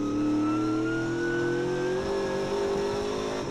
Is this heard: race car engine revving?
yes